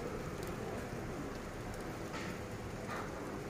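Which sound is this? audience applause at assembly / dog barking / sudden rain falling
sudden rain falling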